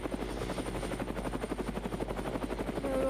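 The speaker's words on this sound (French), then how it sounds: "je vais vous montrer comment faire décoller un hélicoptère" Steady rotor chop and engine whine of a helicopter spooling up for takeoff in a video game, a constant loud drone with rhythmic blade pulses and no talking.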